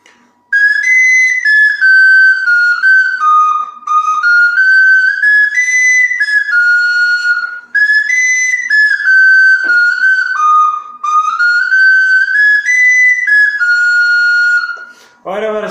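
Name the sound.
Sicilian friscaletto flute playing Carnevale di Venezia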